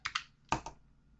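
Keystrokes on a computer keyboard while a terminal command is entered, four crisp clicks in two quick pairs, close and fairly quiet, with no talk.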